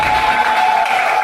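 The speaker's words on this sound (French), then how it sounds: "On applaudit très fort pour le mari, Piero Diasivi." Applause and cheering from guests for the groom at a wedding celebration, a steady dense wash of clapping with a few whoops, loud and continuous throughout.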